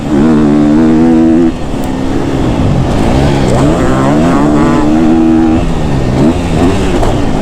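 A KTM 250 SXF four-stroke dirt bike roars loud and close throughout, its engine pitch climbing and dropping as the rider throttles through a jump and its landing, with a short dip in level partway through.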